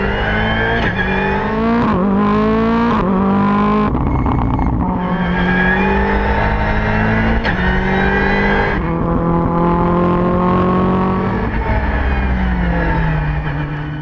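A Ford Fiesta R5 rally car threads a chicane on an airfield, its engine loud and close, revving high, dropping with gear changes and climbing again with steady acceleration throughout.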